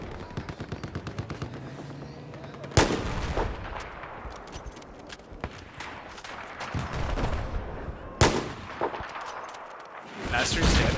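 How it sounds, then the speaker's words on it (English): Video game battle with mortar and gunfire: sharp loud blasts and rapid bursts of shots, some heavy booming impacts, with players talking in between. "Alright, we're gonna set up a mortar."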